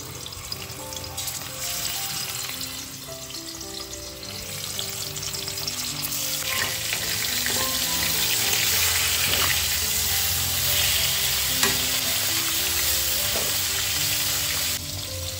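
Rohu fish pieces coated with salt and turmeric sizzle steadily in a pan for a thin fish curry. The frying is loud and continuous, with occasional crackles, over faint steady tones in the background.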